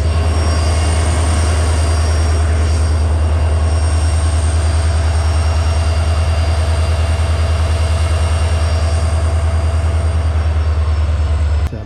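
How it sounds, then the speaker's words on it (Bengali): The diesel locomotive of the 12364 Haldibari–Kolkata tri-weekly express idles up close with a loud, steady, deep throbbing rumble that continues unbroken throughout, and no one speaks. "যাই হোক আপনাদের দেখাই ডিজেল ইঞ্জিনটা।"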